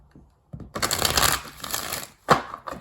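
A deck of tarot cards being shuffled in a quick riffle, a dense papery flutter lasting over a second, then a shorter sharp burst of shuffling near the end.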